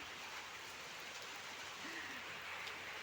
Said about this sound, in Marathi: किती रिमझिम रिमझिम पाऊस येत आहे